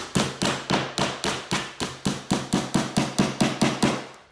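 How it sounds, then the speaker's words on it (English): A hammer drives a nail into a wooden baseboard with about sixteen sharp, evenly spaced strikes in quick succession, close and loud, each blow ringing briefly before the next. "Continue hammering."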